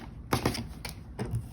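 A paper trimmer cutting paper for a mini book keychain, heard close as a few sharp, separate clicks and slicing snaps spaced apart, with no talking.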